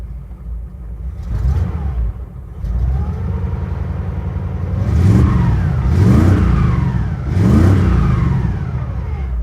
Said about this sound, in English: So try to rev it up a bit.